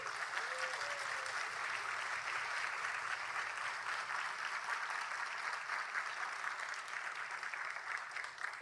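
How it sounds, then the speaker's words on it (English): An audience at a Latino cultural celebration event applauds, with dense, sustained clapping that fills the room evenly from start to finish, with a faint voice briefly audible underneath. "So please join me in giving one more heartfelt, loud, warm applause to the LBC,"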